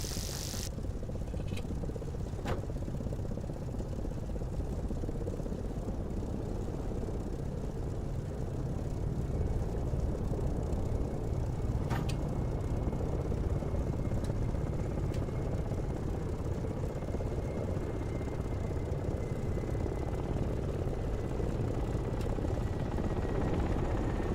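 An aircraft in the DCS flight simulator game runs its engine toward takeoff, a steady low droning roar that holds level and grows slightly fuller partway through, with a few faint clicks over it.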